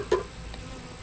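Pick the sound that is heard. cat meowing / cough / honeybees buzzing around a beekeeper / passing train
honeybees buzzing around a beekeeper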